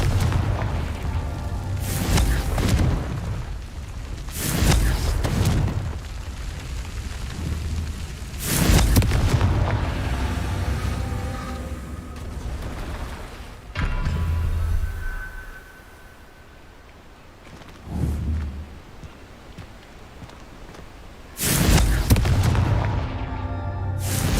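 Repeated heavy spell blasts from the Confringo fire spell in Hogwarts Legacy, loud booming explosions at irregular intervals, each with a deep rumbling tail, separated by quieter stretches of ambient game sound.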